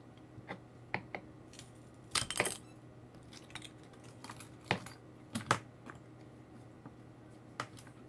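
Jumbo craft sticks being cut for a model gazebo: scattered sharp clicks and snaps, some doubled, spaced irregularly and fairly quiet, with no talking.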